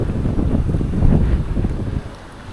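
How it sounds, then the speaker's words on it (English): Strong wind buffets the microphone in a steady low roar, gusting louder midway and easing toward the end, with no voices. "Let's go somewhere out of this wind."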